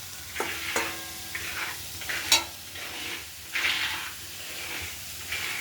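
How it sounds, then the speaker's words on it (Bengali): Potatoes frying in a pan make a close sizzle that comes and goes in short bursts, broken by stirring scrapes and one sharp clink. "তার জন্য আলু ভাজে রাখছি"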